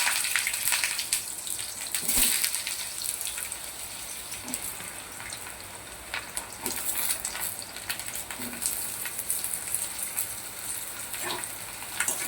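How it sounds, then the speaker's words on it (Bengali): Potatoes fry in hot mustard oil with whole garam masala, dried red chillies and bay leaves, giving a steady, close, continuous sizzle with scattered crackles and no talking. "আলুগুলো একটু ভেজে নেব।"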